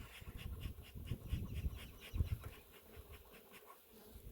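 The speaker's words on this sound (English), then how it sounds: "that's a good sign when the bees come pouring out the top" A faint, low hum of honey bees pouring out of the top of a hive during a late-April inspection, soft and close with a few louder swells.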